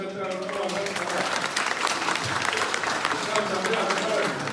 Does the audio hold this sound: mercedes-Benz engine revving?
no